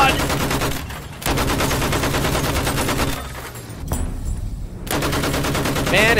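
Continuous rapid automatic gunfire from the World War I shooter Battlefield 1 comes in long sustained bursts, loud and close, broken by two short pauses.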